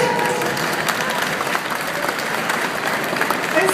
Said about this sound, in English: I think you deserve a round of applause here.